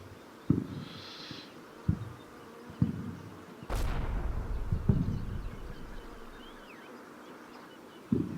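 Artillery shells landing in the Combat Mission war game during a German meeting engagement: several sharp, distant thuds and one longer rumbling blast scattered over a low ambient background, with a faint insect-like buzz early on.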